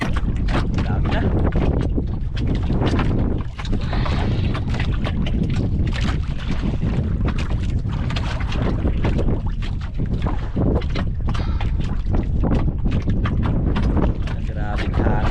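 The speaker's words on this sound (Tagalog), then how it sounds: "Grabing hangin ay." Strong wind blowing at sea buffets the microphone in a steady, loud roar with gusty bursts, near fishing boats; someone talks over it.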